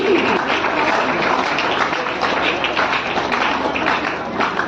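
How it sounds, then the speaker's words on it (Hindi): Loud, sustained clapping from a gathered crowd at a community children's program in Sarai Akil, Kaushambi, continuing evenly throughout without pauses. "अब बच्चों के लिए एक बार जोरदार तालियां हो जाए"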